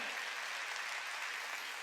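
A church congregation applauding during a Sunday worship service, a steady dense wash of clapping that stays even and sustained with no pauses throughout.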